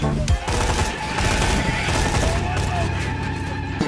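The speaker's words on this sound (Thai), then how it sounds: "เอาปืนนี่ยิงเลยแล้วกัน" Rapid, loud gunfire from a gun in Borderlands 2 rattles almost continuously over a droning game soundtrack, dense overlapping shots that barely pause.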